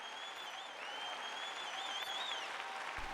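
Congregation clapping during a sermon, a continuous soft wash of applause with a faint tonal whine running through it, fairly distant and steady.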